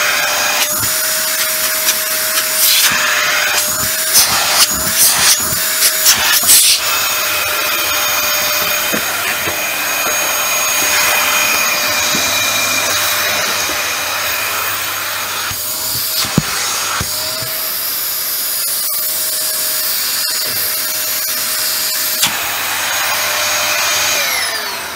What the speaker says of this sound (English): let me just take the wand off the hose so we can test the suction.